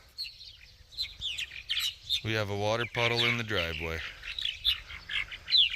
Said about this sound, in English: the birds are chirping like crazy